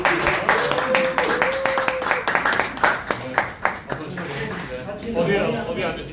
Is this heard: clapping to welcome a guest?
yes